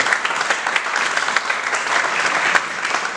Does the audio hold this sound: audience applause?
yes